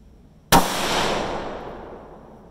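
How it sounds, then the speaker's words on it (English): A single sharp report from a Ruger 6.5 Grendel rifle firing a Barnes 140 gr round goes off at close range, followed by a long, fading echo that tails away over a couple of seconds. "So I'll single feed them, shoot 3 shot groups, check the velocities."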